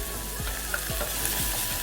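A tempering of green chili fries in a pan, a continuous close sizzle broken by regular scraping strokes of a stirring spoon, with no voices.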